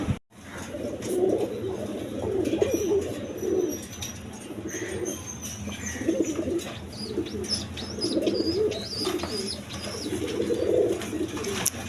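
A pair of Gorra pigeons coo in repeated rolling phrases that rise and fall every couple of seconds, close and clear over a faint steady background, with occasional light chirps.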